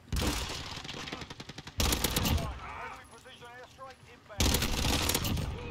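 Rapid automatic fire from the Vector submachine gun in a video game, heard as several loud, tight bursts of closely spaced shots separated by short gaps, with some quieter game sounds between the volleys.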